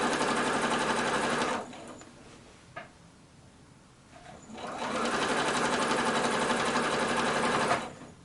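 A sewing machine stitches binding onto a quilted project, running in a loud, fast, steady hum for a stretch, pausing briefly with a soft clunk, then running again just as loud before stopping.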